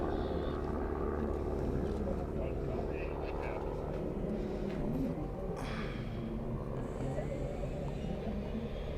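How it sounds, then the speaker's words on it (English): A microjet engine starting up at the Apple Valley air show: a broad, steady roar with a whine that rises partway through, heard amid outdoor crowd noise and nearby talking. "We got engine startup. Hear this. That's the microjet."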